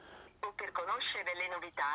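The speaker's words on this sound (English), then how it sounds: "Let's try dialing." A KOSPET TANK T4 smartwatch gives a phone-call dialing tone over Bluetooth, a series of short, loud, clear bursts with brief gaps between them, heard close up with no talking.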